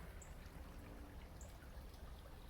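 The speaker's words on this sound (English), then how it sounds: "This is the creek behind me right there." A creek in Texas countryside trickles and burbles steadily at close range, a continuous gentle flow with a couple of faint high chirps over it and no speech.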